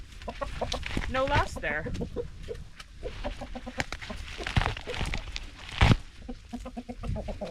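Backyard chickens cluck and chatter close by in a garden, with a steady run of short calls and one louder squawk, while a person speaks briefly over them.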